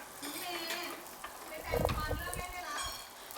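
Butter sizzles on a grill under fresh shrimp, a soft steady fizz with faint crackles and a brief clatter of utensils, quiet and close.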